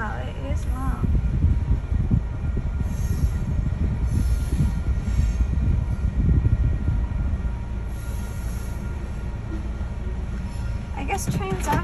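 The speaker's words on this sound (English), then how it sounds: "I guess trains are long. Okay, still continuing on the train." Long freight train rolls past in Texas, a steady heavy rumble of wheels on track with faint squeals, continuous and close throughout.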